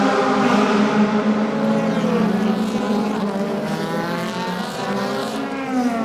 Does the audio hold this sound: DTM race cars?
yes